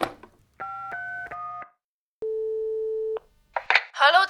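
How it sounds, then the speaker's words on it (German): A telephone number is dialed by someone with ice-cold hands: a short burst of touch-tone beeps, followed after a pause by a long steady ring or line tone, then a voice begins speaking at the end. "Mit eiskalten Händen wählt er den Vicky und dem Nick seine Telefonnummer."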